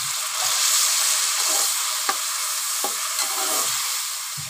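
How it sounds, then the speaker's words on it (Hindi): Chopped onions and beef keema fry steadily in a pan, giving a continuous close sizzle with a few brief stirring clicks and scrapes, no voices. "प्याज को हल्का सा ब्राउन करने तक फ्राई करेंगे, साथ ही साथ इसे कीमा भी ऐड कर देंगे।"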